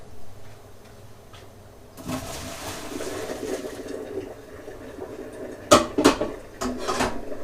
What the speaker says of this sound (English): I'm going to drain these real quick